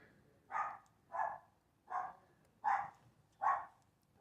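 A dog barks at a stranger indoors: five evenly spaced, muffled woofs about a second apart, moderately close with a steady rhythm and no talk over them.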